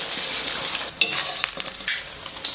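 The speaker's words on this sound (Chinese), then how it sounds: "咱们给锅里边稍微来点油，油温五成热，咱们把鸡蛋给它下到锅中" Eggs dropped into moderately hot oil in a wok, crackling and sizzling sharply close up, with bursts of spattering pops over a steady frying hiss.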